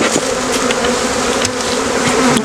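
Honey bees buzz in a steady, loud swarm drone as their hive is smoked during a spring split, the dense hum continuous and close throughout.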